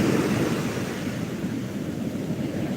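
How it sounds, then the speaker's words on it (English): Big ocean waves on the Gulf of Mexico shore make a continuous roaring surf wash, steady and fairly loud with some wind noise and no talk. "Wow, massive waves."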